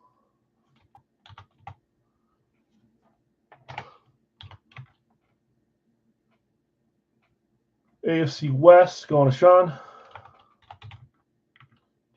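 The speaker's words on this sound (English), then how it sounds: "I've switched to typing with one hand because of this thing in my way" Sparse keyboard clicks from one-handed typing appear as scattered, faint taps in a quiet room, broken by a short burst of speech.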